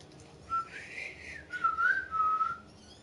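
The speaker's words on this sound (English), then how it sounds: "I cannot whistle for the love of me." A person whistles a short wavering tune up close, in two rising and falling phrases with a brief pause between them, alone and fairly quiet.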